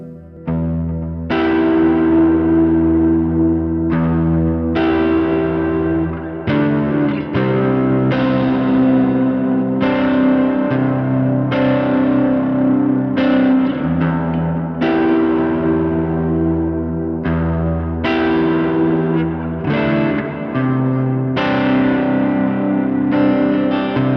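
Electric guitar played through a Line 6 POD Go with an ambient freeze effect, sustained chords swelling and hanging in a wash of distortion, chorus and echo, each new strum layering over the held drone, loud and continuous with no talking.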